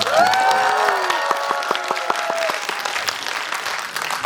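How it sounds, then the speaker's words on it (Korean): Theater audience applauding during a film stage greeting, a full wash of clapping with some light cheering, steady throughout as a few whistle-like tones fade early on. "박수 한번 다시 주십시오."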